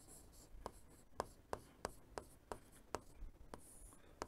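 Chalk or marker strikes and scratches on a board during a lecture, a string of sharp, evenly spaced taps and short strokes, fairly faint in a quiet room.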